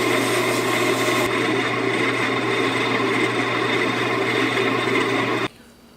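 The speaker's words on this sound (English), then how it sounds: "So now I'm just going to sand it with 400 grit" A steady motorized hum with a raspy sanding hiss from 400-grit sandpaper on a pen blank runs continuously for several seconds, then drops suddenly to a quieter whir.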